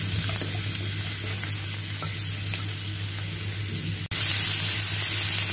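Onion, chilli and carrot sizzle steadily in a little mustard oil, a dense continuous frying hiss with faint stirring scrapes, briefly cut by a sharp dropout near the end before the sizzle resumes.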